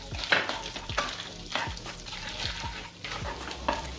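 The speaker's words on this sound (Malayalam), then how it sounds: "ഇതിലേക്ക് നമുക്ക് ചെറുതായിട്ട് അരിഞ്ഞു വെച്ചിരിക്കുന്ന ഗാർലിക് ഇട്ട് കൊടുക്കാം അപ്പം അതൊക്കെ വഴറ്റിയെടുക്കാം" Chopped garlic sautéing in butter in a pan for a creamy white sauce chicken pasta, heard as a steady sizzle with repeated scraping stirs roughly every half second, close and moderately loud with no talking.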